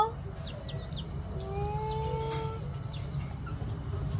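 Native hens clucking and chirping softly at close range in a farmyard around a coop, with short calls scattered over a low background rumble, and a person talking quietly nearby.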